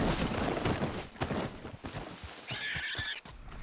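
A horse in the video game Red Dead Redemption 2 whinnies loudly and close, with hoof clip-clop and game sounds mixed in, then a brief higher tone near the end.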